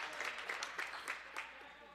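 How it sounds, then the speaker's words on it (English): A crowd of high school basketball fans cheers and claps in a gym, a moderately distant wash of applause with rhythmic clap bursts and voices mixed in. "It's a cheer from the GTRA faithful."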